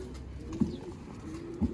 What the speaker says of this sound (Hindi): मियां साहब वाला सलाड़ा कबूतर है